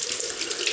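Water runs from a bathroom tap into a sink while hands are rinsed before wet shaving, a close steady splashing hiss over the brief moment.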